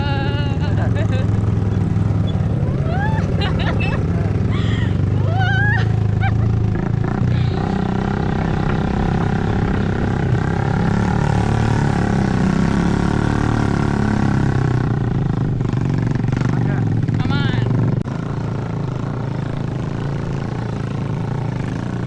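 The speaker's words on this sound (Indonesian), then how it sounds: "Suara motor trail itu kan berisik banget ya." Several trail motorcycles roar on a mountain trail on Rinjani, Indonesia, their loud engines droning and rising in revs close by, with people talking over the noise.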